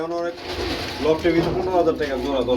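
Giribaz pigeons coo at a pigeon farm, their soft, repeated throaty calls running under nearby talk.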